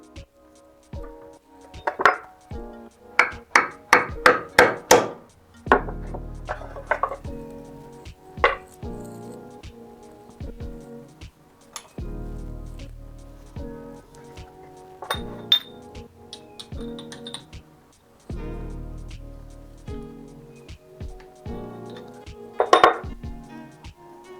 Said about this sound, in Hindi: So we are loosening the bolts now.